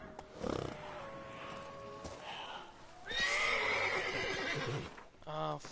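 Horse neighs and whinnies in The Witcher 3 while its hooves clop beneath, with a long loud whinny near the middle. A person talks over part of it.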